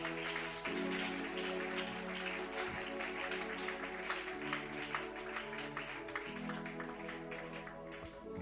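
A church congregation applauds and cheers the Lord Jesus at a seminar, steady rapid clapping from many hands with sustained organ or keyboard chords underneath, moderately distant.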